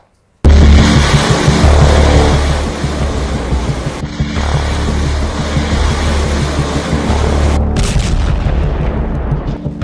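Missile strikes exploding in a war between Iran and Israel, a loud, continuous roaring wall of blasts and rumble with a brief dip midway and a sharp burst near the end, no voices.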